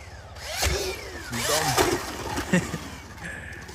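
A Stark VARG electric motorcycle motor whirs close by with rising and falling pitch sweeps, as if speeding up and slowing, over a constant hum.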